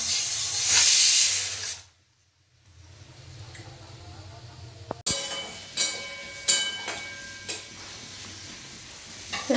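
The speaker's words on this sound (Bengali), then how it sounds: "সিটি পড়লো এখন" A pressure cooker releasing steam, a loud rushing hiss for about two seconds that cuts off, followed by quieter kitchen clatter and scattered metallic knocks.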